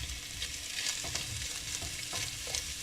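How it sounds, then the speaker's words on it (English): Sausage crackles and sizzles in its own grease in a pan, a soft steady spitting with small pops and stirring scrapes, no voices. "Okay, it's starting to sizzle."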